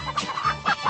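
Cartoon chickens cluck in a quick run of close, throaty calls, overlapping one another.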